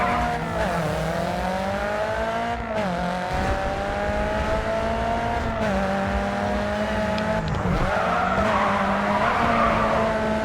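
In the Grid 2 video game, a race car drifts with a steady engine drone and long tire squeals that rise and bend as it slides, continuous and close without pause.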